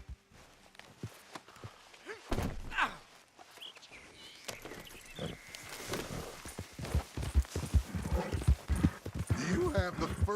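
Horse hooves clip-clopping in Red Dead Redemption 2, irregular clopping steps that grow busier and louder as the horse moves, with a snort or whinny and faint birdsong in the background, while someone speaks.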